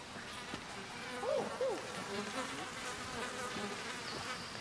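Bees buzzing steadily around a beehive in the video game Ancestors, a continuous insect drone with a couple of brief louder passes, no talking.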